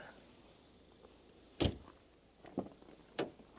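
A car door of a 2011 Ford Mondeo Titanium unlatches with a solid clunk, followed by two softer knocks and clicks as it swings open; no talking.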